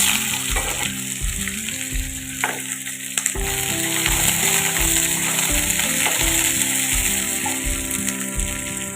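Cut ivy gourd (kovakkai) pieces fry in a pan with a loud, continuous close sizzle and occasional stirring scrapes. Soft music with a pulsing low beat plays underneath.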